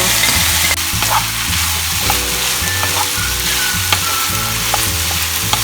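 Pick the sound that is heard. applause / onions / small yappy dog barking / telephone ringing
onions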